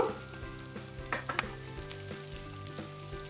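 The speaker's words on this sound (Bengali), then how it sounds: "আমি তেলটা গরম হয়েছে এখন পরিমাণ মতো পেঁয়াজ কুচি দিয়ে দিলাম পেঁয়াজ কুচিটা দেওয়ার পরে আমি এখন নাড়াচাড়া দিব" Chopped onion frying in hot oil while being stirred, with a steady close sizzle and a few sharper scraping clicks from the spoon.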